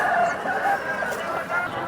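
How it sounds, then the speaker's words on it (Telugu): An eleven-month-old black-and-peacock-coloured rooster at the Nallapadu poultry market lets out a strained crowing call amid busy crowd noise and clucking. "పదకొండు నెలలు వయసు కలిగినటువంటి కోడిపుంజ ఇది"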